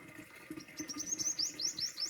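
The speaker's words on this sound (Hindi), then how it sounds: "चार तरीके की वैरायटी के तो पक्षी हैं यहाँ पे, कबूतर, टटीरी, चिड़िया, गुरसल।" Pigeons, lapwings and sparrows chirp in a lively run of quick, high tweets and short calls, rising in density toward the middle and staying moderately close over a quiet background.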